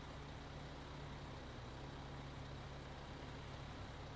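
Steady low truck engine idle with a faint mechanical hum as a tow truck lowers a car in GTA 5, constant and unbroken throughout with no talking.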